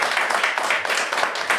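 Brisk audience clapping from a small group at a podcast recording, steady and close for a moment, with no talking over it.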